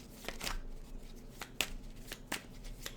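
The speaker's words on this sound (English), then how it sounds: "One more shuffle." Tarot cards are shuffled close up in a quiet room, a few sharp riffling bursts spaced about a second apart over a low steady hum.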